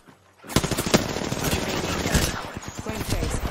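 Rapid automatic gunfire in a squad-based battle royale video game on Xbox, loud bursts of close shots rattling after a brief quiet start and continuing in dense volleys with faint voice lines underneath.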